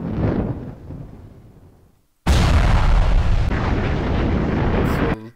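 Explosion effects from the game GTA V: a deep rumbling blast that decays into near silence, then a second sudden, loud, sustained roaring detonation that holds for about three seconds before cutting off.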